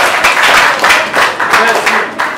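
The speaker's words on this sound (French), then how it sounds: "Applaudissez pour vous-même" An audience at a school academy's visit to the Ituri governorate office in Bunia claps together, a dense, loud round of applause with rhythmic surges and voices mixed in.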